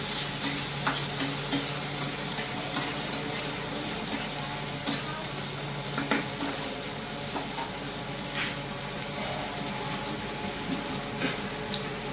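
Tomatoes added to a pan of cauliflower curry, frying with a steady, dense sizzle and faint stirring scrapes throughout, close and continuous, with no talk.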